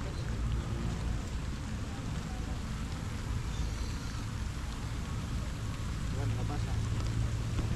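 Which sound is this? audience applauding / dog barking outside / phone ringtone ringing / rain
rain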